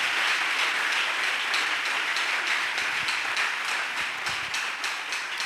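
A church congregation claps together during a Pentecost worship service, a dense, steady wash of applause that holds evenly throughout with a faint rhythmic pulse.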